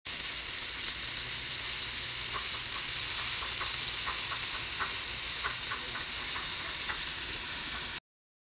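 Breaded shrimp fry in hot oil in a pan, a loud, steady sizzle and hiss that fills the whole stretch, with light clicks and scrapes as the pieces are turned over and over.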